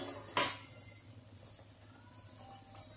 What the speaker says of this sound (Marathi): मी झाकण काढते